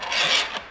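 A metal bolt scrapes briefly along an Alu-Cab rooftop tent mounting bracket, making a single short rasping slide close up.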